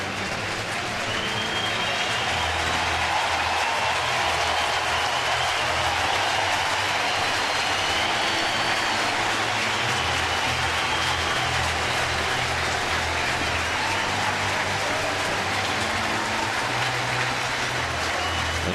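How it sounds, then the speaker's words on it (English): Baseball crowd at Citi Field gives a sustained, dense wash of applause and cheering, steady and loud throughout, with faint voices mixed in. "An appreciative hand from the crowd at Citi Field for a great effort by Dicky"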